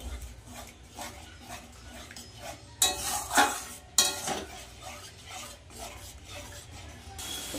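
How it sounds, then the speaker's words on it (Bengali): A wooden spoon stirs thick masala with sour curd and cashew paste in a pan for chhana and raw banana kofta curry. Repeated soft scraping strokes with a mild sizzle, and a couple of louder clanks against the pan midway. "ভালো করে নাড়িয়ে নেব।"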